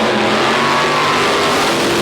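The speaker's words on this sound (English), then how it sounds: "Nothing like the sound of an engine roaring, and that's what you'll hear on the tracks at the Reading Drag Strip" A drag racing car engine roars loud and continuous at a drag strip during a night race event, a dense, steady blast of engine noise with no other sounds.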